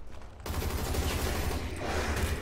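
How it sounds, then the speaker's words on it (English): A dense, loud burst of automatic gunfire rattles on in the zombie shooter ZMR (Zombies Monsters Robots), continuous rapid shots close up after a brief quieter start. "I just shot my gun."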